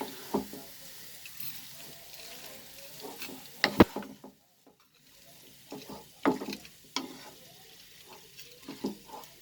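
Potato mixture for chicken potato cutlets frying in a pan and being stirred, with soft sizzling under irregular scrapes and sharp spatula knocks against the pan, close by, with a short quiet gap midway.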